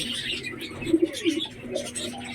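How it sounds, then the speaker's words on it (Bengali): A pigeon recovering from paralysis disease coos softly after being let go, with a few low coos around the middle against quiet background noise. "পায়রাটা ছাড়ো"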